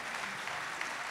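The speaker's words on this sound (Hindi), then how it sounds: "जोरदार तालियां" Brief burst of audience applause in a large auditorium at a music show, a dense, even patter of clapping at moderate loudness with no voices.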